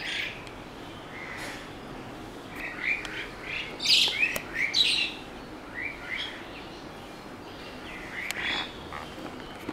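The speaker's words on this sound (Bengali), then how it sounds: "এই সময়টা চড়ুই পাখি অনেক ডাকাডাকি করে" Sparrows chirp repeatedly around a water dish where they come to drink, bright clustered calls rising and falling at moderate distance over faint outdoor ambience.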